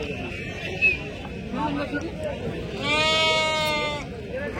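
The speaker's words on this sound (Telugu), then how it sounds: "ఇవి గొర్రెలు దాని పిల్లలు." Sheep and lambs bleat at a weekly livestock market, one wavering call rising clearly near the end over steady crowd chatter and babble.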